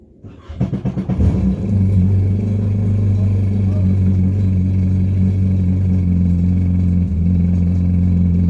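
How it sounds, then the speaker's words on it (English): A jet ski (Waverunner personal watercraft) engine is started during winterizing with antifreeze run through it: a brief cranking stutter, then a steady loud idle with a low droning hum close by. "I'm going to start the engine, and then I'm going to run this antifreeze through till it's gone"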